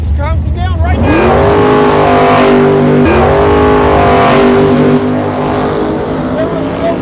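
A drag race car on street tires or slicks launches hard down the strip, its engine roaring loudly and rising through the gears before the sound fades into the distance.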